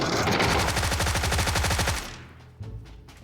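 Sustained rapid automatic gunfire in PUBG, a dense rhythmic burst of shots lasting about two seconds before cutting off, followed by a few fainter thuds and quieter game sounds.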